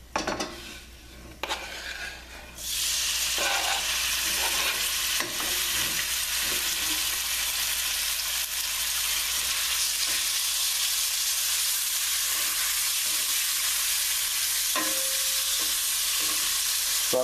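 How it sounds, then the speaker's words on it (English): Raw pork frying in peanut oil, a loud steady sizzle that jumps up after the meat goes in, with occasional clinks and scrapes of a utensil against the pan. "Starting off with the pork since it's raw"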